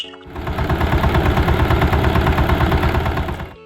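ACI GN 20HP power tiller engine running close by, a steady, fast, throbbing idle with no voices, starting and stopping abruptly.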